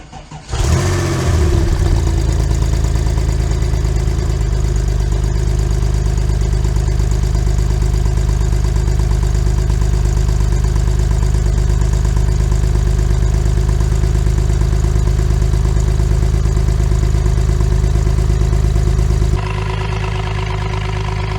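A cheap, heavily smoking Porsche 997 911 Turbo cranks briefly and catches, then settles into a loud, steady, close-up idle that runs for many seconds before cutting off abruptly.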